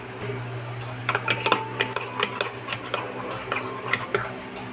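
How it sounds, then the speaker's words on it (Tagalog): A spoon stirs cocoa cake batter in a mug, giving repeated light clinks and scraping taps against the sides in an uneven rhythm over a low background hum. "And then, stir lang natin ng maigi para hanggang sa mag-mix."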